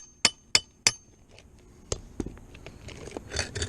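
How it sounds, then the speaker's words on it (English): A hammer taps on a stuck, dug-up fastener: three sharp, evenly spaced metallic strikes up close, followed by softer clinks and scraping. "I'm gonna have to get the hammer and just kind of tap on it."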